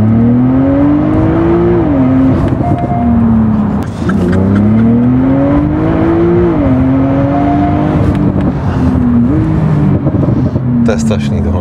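A tuned Stage 2 Porsche 911 Turbo (991.2) engine revs hard and climbs through its gears at full throttle, loud and close, its pitch rising, dropping at each shift, then rising again.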